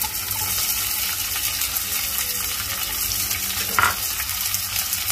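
Chopped onions fry in a pan for zunka, a traditional Maharashtrian dish, with a steady close sizzle and one brief louder clink partway through.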